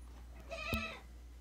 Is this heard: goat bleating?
yes